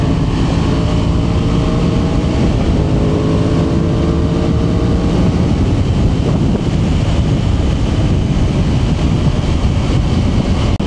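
Aprilia Tuono 660 middleweight sport motorcycle being ridden, its engine droning with rising and falling pitch early on, heavily buffeted by loud, constant wind rushing over the microphone.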